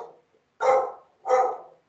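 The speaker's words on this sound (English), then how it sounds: "Assume you can hear my dog." A pet dog barks twice indoors, two clear, fairly close woofs spaced about half a second apart, with a faint trailing bark sound just before them and no talk.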